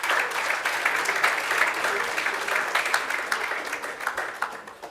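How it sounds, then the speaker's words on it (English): A crowd's steady applause fills a hall at a portal launch event, dense and sustained for several seconds, honoring the program director. "I want us to clap hands to our wonderful program director"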